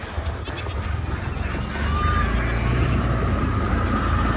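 Goats bleating nearby over a low rumbling background, a few short animal cries amid farmyard noise.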